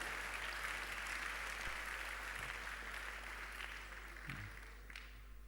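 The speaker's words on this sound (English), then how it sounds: "I don't care whether you clap or not." Quiet, distant clapping from a church congregation during a sermon, a soft continuous patter that thins out toward the end, with a low steady hum beneath it.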